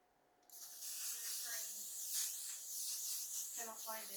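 A L'Oréal Infallible setting mist spray bottle releases a long, close hiss of fine mist after a short quiet moment, with soft speech murmured over it.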